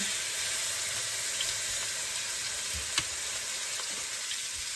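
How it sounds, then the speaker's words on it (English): Meat browning in olive oil in a pan, a dense, even sizzle and crackle held close and steady throughout, with a faint occasional clink, no talking. "you just want to brown it a little bit"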